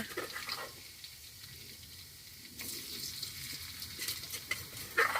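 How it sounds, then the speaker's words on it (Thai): Hot oil sizzles softly in a wok, and the frying grows brighter and louder partway through as pounded chilies are added. "แล้วก็เอาพริกที่เราเตรียมไว้ ใส่ลงไปในกระทะ"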